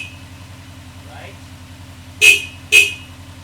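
A Honda CB1100 EX motorcycle gives two short, bright honks of its horn about half a second apart over the low rumble of its idling engine.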